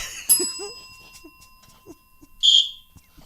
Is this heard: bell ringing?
yes